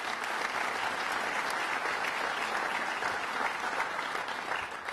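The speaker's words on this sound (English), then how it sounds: "let's give him a round of applause." A large crowd applauding at a Staten Island budget address, thick continuous clapping that stays loud and even for several seconds.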